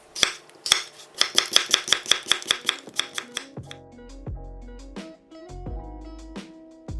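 A knife slices washed, cored apples cut into thirds into 0.3 cm slices, giving a quick, even run of crisp taps on a board, followed by soft background music.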